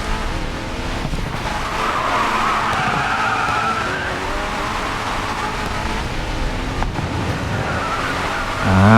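A Bugatti Chiron in the Racing Master video game slides through a turn, its tyres skidding under a steady, loud engine roar that runs nearly unbroken throughout.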